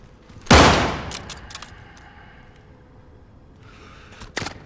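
Gunfire in Call of Duty: Modern Warfare: one loud close blast opens, then sparse scattered shots and a rattle of rapid fire near the end over faint ambient battle noise.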